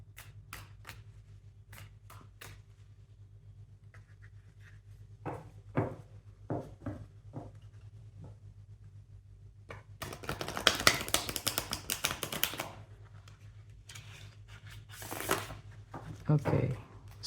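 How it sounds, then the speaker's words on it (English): Tarot cards being shuffled in a burst of dense riffling and rustling, preceded by scattered soft taps and handling clicks over a low steady hum, close and fairly quiet. "Just bear with me until I shuffle again."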